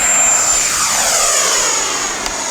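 A Freewing Yak-130 radio-controlled jet roars on takeoff, a loud, steady turbine-like whine with a high tone that shifts slightly as the model accelerates and pulls away.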